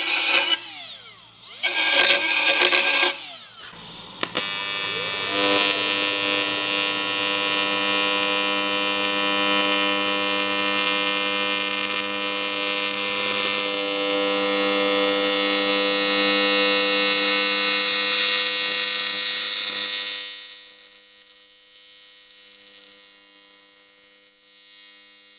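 Steady electric buzz and hum of an arc welder running a long continuous bead on cast aluminum, preceded by a few short sputtering starts, then stopping abruptly with a faint high hiss left after.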